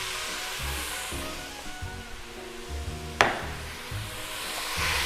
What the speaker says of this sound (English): And while the sausage is cooking, I start breaking it up and mixing it.